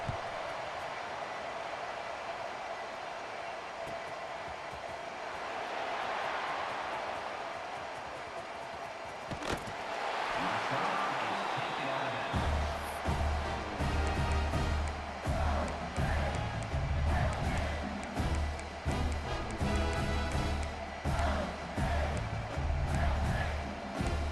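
A stadium crowd in the EA Sports College Football 26 video game murmurs softly at first, then swells into a loud, continuous roar with rising cheers after a play.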